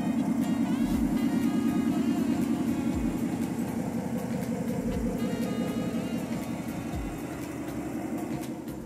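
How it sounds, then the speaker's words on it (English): Gas engine with hydrostatic hydraulic drive on a ride-on locomotive set pulling 50 loaded cars up a grade around a curve, a steady low idle-like hum with periodic low thumps, continuous and moderately loud throughout. "Our gas engine with hydrostatic hydraulic drive setup controls smoothly and effortlessly with lots of power to spare"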